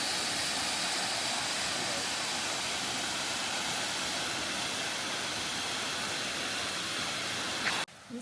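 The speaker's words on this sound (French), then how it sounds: "La gorge est vraiment haute et il y a une jolie cascade" Waterfall in a high river gorge in Canada, a steady, dense broadband roar holding constant for about eight seconds before cutting off abruptly at the end, with no one speaking.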